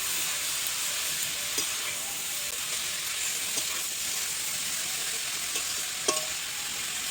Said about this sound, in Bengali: এবার নেড়ে নিচ্ছি।